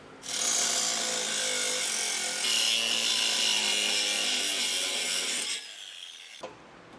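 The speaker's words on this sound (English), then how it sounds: "Today we're using an angle grinder" An angle grinder cuts through a thin metal bumper support on a 2023 Honda during a trailer hitch installation, a loud, steady, harsh whine for about five seconds before it winds down and stops.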